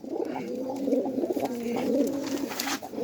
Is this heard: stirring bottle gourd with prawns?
no